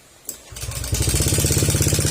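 A Honda Click 125 scooter engine cranks and catches, then idles with a fast, noisy mechanical rattle, close and steady.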